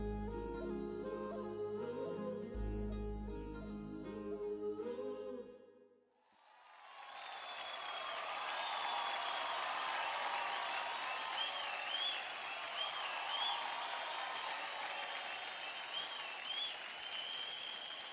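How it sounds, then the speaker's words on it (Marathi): A studio audience on a televised dance competition breaks into a standing ovation, loud sustained applause with crowd cheering that swells after music cuts off and continues for many seconds. "फायनलिस्ट पुण्यकरचा स्टँडिंग ओवेशन मिळवणारा जबरदस्त हिरोईक परफॉर्मन्स"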